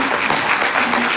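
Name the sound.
audience applause for apprentices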